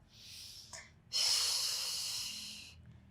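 A steady, breathy inhalation taken during a beginner Pilates exercise, with a short faint breath first and then a long, loud airy intake lasting well over a second, close to the microphone.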